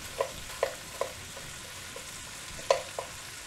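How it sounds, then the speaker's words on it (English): Yellow squash, zucchini and toasted walnuts stir-fry on medium-high heat with a faint, steady sizzle. Several soft clinks of a utensil on the pan mark the stirring rhythm. "in goes our yellow squash and zucchini. And give this all a nice stir."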